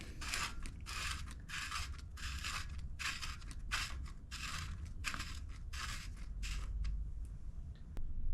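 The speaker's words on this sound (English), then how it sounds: "For the non-drive side, we need the left-hand cup. Thread this in by hand, and this goes clockwise." A mountain bike's left-hand bottom bracket cup is turned by hand into the threaded frame shell, producing a steady run of gritty scraping rasps in regular strokes over a constant low hum, close up.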